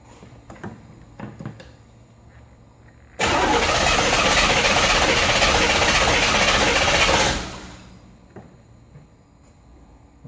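A car engine cranks over on the starter with the spark plugs out for a compression test, a loud steady whirring that runs for about four seconds and then cuts off, with quiet workshop ticking before and after.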